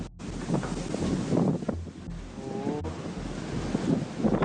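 Storm wind buffets the microphone in loud gusts over crashing sea waves around a cargo ship, rising and falling roughly, with a brief tonal creak or cry in the middle.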